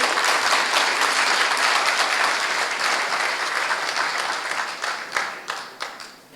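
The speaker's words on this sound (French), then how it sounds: "qu'on applaudit s'il vous plaît" Loud, sustained applause from a ceremony audience at a presidential investiture, thick and even at first, then thinning into scattered claps as it fades toward the end.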